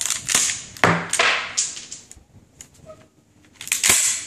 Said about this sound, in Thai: ลูกโดดใส่เข้าไป คัดลูกปลายออก